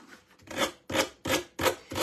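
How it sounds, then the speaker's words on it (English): A small sander rubs along the edges of cardstock scrapbook paper, producing four or five close, raspy scraping strokes in a quick back-and-forth rhythm, without speech. "now we're just taking our little sander and sanding it right off the edges"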